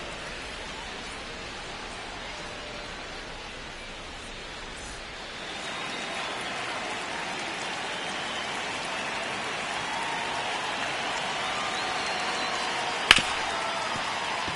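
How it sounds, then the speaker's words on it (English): Steady rain falling at a Detroit Tigers baseball game, a soft continuous hiss that swells slightly partway through, with a single sharp click near the end. "This rain is not letting up."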